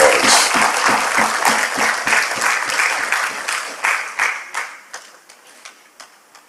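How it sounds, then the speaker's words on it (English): Applause from an awards ceremony audience, a dense burst of many hands clapping that thins out and fades toward the end, leaving a few scattered claps. "Could you give her a special round of applause?"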